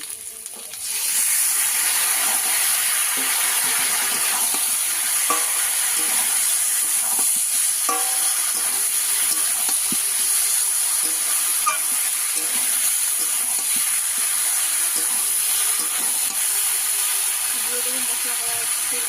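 Ridge gourd frying in a pan with turmeric and chilli powder, giving a steady close sizzle and hiss throughout, with a few faint utensil clinks from stirring.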